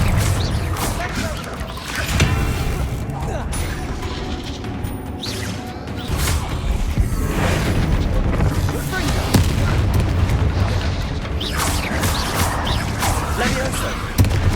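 In the Hogwarts Legacy video game, spell explosions burst inside a mysterious cavern as loud, heavy booms and crashes follow each other almost without pause, while voices call out incantations over the blasts.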